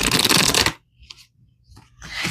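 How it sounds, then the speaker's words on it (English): Tarot cards being shuffled, a loud close riffling burst that stops abruptly, followed by a few soft card slides and handling noises, then another shuffle starting. "let's pull some more cards"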